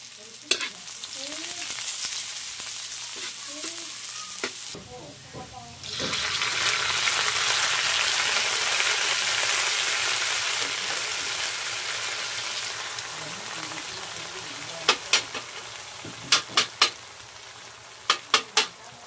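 Onion and garlic frying in a pan, a quieter sizzle that swells into a loud, dense hiss after a few seconds, followed near the end by a series of sharp metallic taps and clatters, with faint talking in places.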